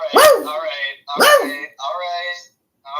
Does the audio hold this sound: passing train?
no